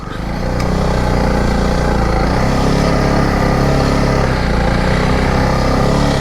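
A motorbike engine labours through thick sand on a family ride to Rainbow Beach, a loud, steady, close droning roar that holds without a break for several seconds.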